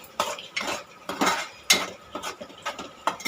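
A utensil stirs onion-tomato puree into chicken in a pan, making repeated close scraping and clinking strokes in an uneven rhythm, about seven or eight in quick succession, with no speech.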